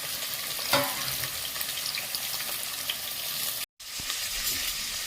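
Onions sauté in a pan for mutton biryani, a close, steady crackling sizzle with a brief stir near the start and a sudden short dropout before the frying resumes; no talking.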